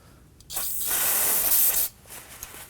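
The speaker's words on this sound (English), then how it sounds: "Using some brake parts cleaner, we're going to go ahead and clean the bleeder." Brake parts cleaner sprays onto a brake bleeder on a Nissan Armada, a single close loud aerosol hiss of about a second and a half that starts and stops sharply, with quiet handling noise around it.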